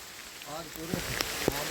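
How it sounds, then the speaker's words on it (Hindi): Heavy rain pours down on flooded farm fields, a steady dense hiss that fills the whole stretch, with someone speaking over it in the foreground. "बारिश बंद नहीं होकर दे रही"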